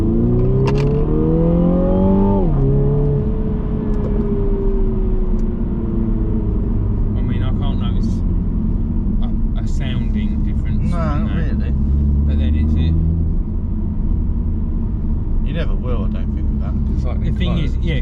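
A 2020 Mini Clubman JCW fitted with a full carbon Eventuri intake revs sharply once, its engine note climbing then dropping back, before settling into a low idling rumble while people talk nearby.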